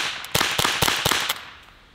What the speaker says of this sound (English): And we're gonna start with the 22 long rifle. This is the Ruger 10-22.